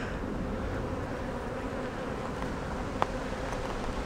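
Honeybees hum at the entrance of a strong, healthy beehive, a steady, dense buzzing from many insects close by, with one brief louder pass near the end.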